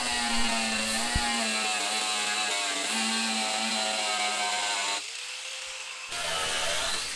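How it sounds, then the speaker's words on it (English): Angle grinder with a cutting disc working a curved wheelwell line on a gasser build, a steady high whine that drops briefly near the end, then resumes, alone and fairly close. "I'm curving the grinder so that I use the circle of the cutting disc to maintain a circle pattern"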